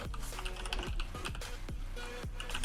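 Keys clack on a computer keyboard in a quick, irregular run of close taps over a low background hum.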